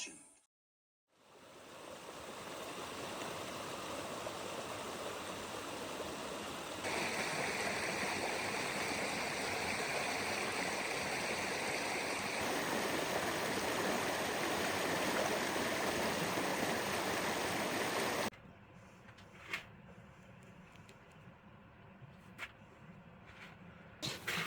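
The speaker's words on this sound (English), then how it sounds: "the soft tent top lets you hear things outside like the creek and other things" A forest creek in the Redbird District of Daniel Boone National Forest rushes steadily outside a soft-topped tent, a continuous loud wash that drops abruptly near the end, leaving quieter flow with faint scattered knocks.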